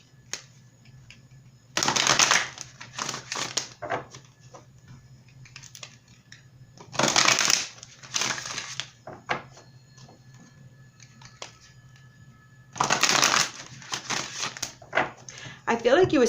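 Oracle cards being shuffled and pulled from a deck, giving three loud bursts of riffling, flicking card noise separated by quieter stretches of soft handling and taps, with a low steady hum underneath.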